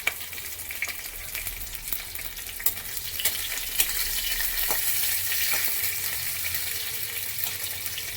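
Five-spice seeds and chillies fry in hot oil with a steady, bright sizzle, broken by a few soft stirring scrapes, heard close and alone.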